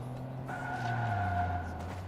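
A car in Watch Dogs 2 skids and flips, giving a sustained tire squeal over a low engine rumble, steady and fairly loud, with no voices.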